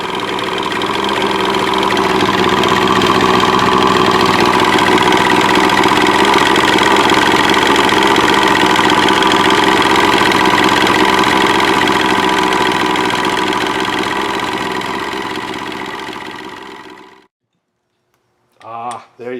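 A Husqvarna 372XP chainsaw idles steadily and loudly up close with a mechanical rattle for about seventeen seconds, then cuts off abruptly, followed by a few brief spoken words.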